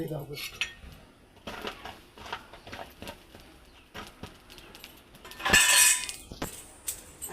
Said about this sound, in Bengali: এবার আমি হাঁড়িটা বসিয়ে দেবো